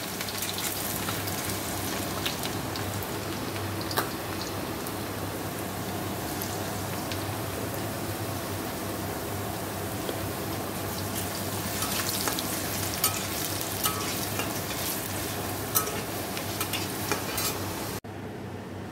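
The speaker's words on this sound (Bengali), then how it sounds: "অল্প অল্প করে মচমচে করে ভাজবো।" Cut potatoes fry crisp in a pan, giving a steady, dense sizzle that runs unbroken throughout with occasional small crackles and stirring scrapes, close and fairly loud.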